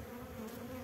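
A dense, steady hum of many honeybees buzzing on a hive frame thick with bees and brood, close and continuous for a brief moment.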